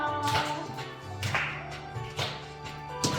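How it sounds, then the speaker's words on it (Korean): Preschool children at a church winter Bible school service clap their hands along with a worship song, sharp claps landing in a loose rhythm over a continuous sung melody with accompaniment. "박수 치면서"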